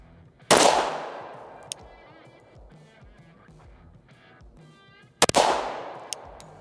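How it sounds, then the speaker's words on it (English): Pistol fired with Buffalo Bore ammunition at an outdoor range target, two sharp loud reports about five seconds apart, each followed by a long ringing decay, with a few faint clicks between them. "I feel good enough to put the buffalo bore in the gun. See where it goes."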